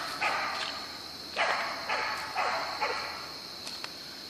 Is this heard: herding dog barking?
yes